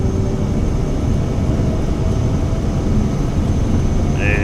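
Twin engines of a Cirrus Vision Jet at full takeoff power in a flight simulator, a steady loud broadband roar with deep low rumble and no spoken voices.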